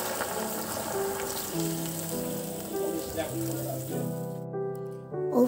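Hot water hits a sizzling cooking pot in a home kitchen while mulo shak jhol is prepared, a loud steady hiss and crackle running throughout, dropping away sharply near the end.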